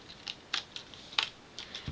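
Scissors snip around the edges of a paper craft card, giving a handful of short, crisp cuts at irregular intervals, close and fairly quiet.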